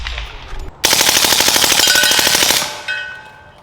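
A suppressed MP5 submachine gun fires a sustained full-auto burst of rapid, evenly spaced reports lasting nearly two seconds, loud and close, trailing off into echo after a faint lead-in.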